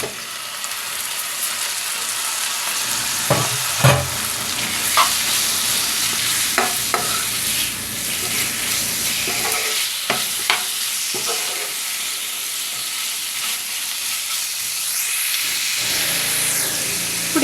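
Prawns fry in a sizzling spice masala for a vankaya curry, a constant loud hiss broken by scattered clinks and scrapes of a spoon stirring the pan, with no voices.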